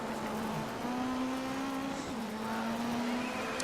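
Ford Focus rally car in the racing video game Dirt 3, a steady droning engine note that holds pitch, dips briefly and then resumes at moderate volume with no speech.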